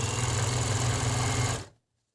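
An Agat DonLock 54D-6 overlock sewing machine stitches at a steady, fast running hum for about a second and a half, then stops abruptly into silence.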